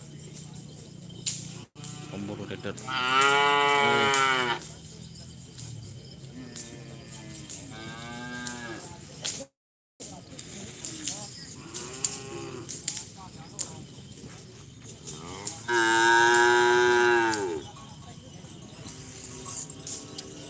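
Cattle at a bull race moo several times in long, loud, drawn-out calls, with an outdoor crowd murmuring faintly behind them and insects buzzing.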